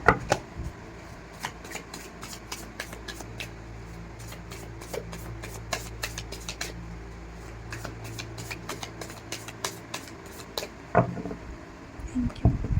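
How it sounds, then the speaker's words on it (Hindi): Tarot cards being shuffled by hand, a long run of quick, crisp riffling flicks and soft slides close up, with a brief pause near the end and no talking. "सो पहले हम आपके पार्टनर के लिए कार्ड्स निकालते हैं।"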